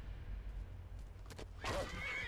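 A horse whinnies in the video game Skyrim, one short neigh rising over a steady low game ambience near the end of the moment.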